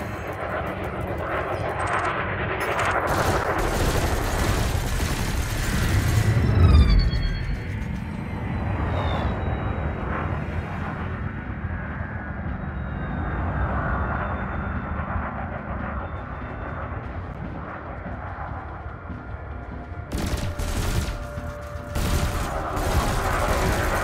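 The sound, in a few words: ship weapons firing at training drone in video game Elite Dangerous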